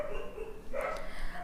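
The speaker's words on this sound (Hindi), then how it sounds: "और ये कुत्ते क्यों भौंक रहे हैं यार" Dogs bark somewhere in the background of an indoor setting, a few short muffled barks standing out over a steady hum.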